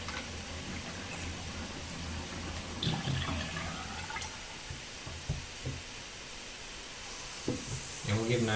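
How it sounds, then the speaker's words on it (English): Bath water draining out of a tub while pets are bathed, a continuous watery gurgle and hiss with occasional splashes and drips as people talk nearby. "Drain out this water."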